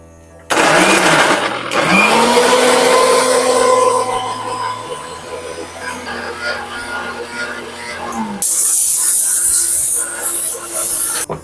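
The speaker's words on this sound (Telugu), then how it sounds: "సో ఇప్పుడు దానిలో మిర్చి యాడ్ చేస్తుంది, అన్ని కలిపి మిక్సీ వేసుకోవాలన్నమాట" A mixer grinder whirs loudly as it grinds sarvapindi ingredients with green chillies, running steadily with a few pauses and restarts, then a harsher, higher whine near the end.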